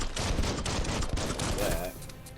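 Dense, rapid bursts of gunfire in the Biomutant video game, loud and continuous before cutting off near the end, with some game noise underneath.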